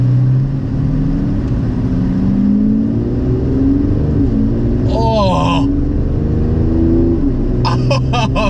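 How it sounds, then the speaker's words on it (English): An Aston Martin DB11 in Sport Plus mode, its engine note rising and falling loudly with gearbox downshifts, overlaid by brief higher-pitched electronic tones from the cabin. "I love the sound that this car is producing already"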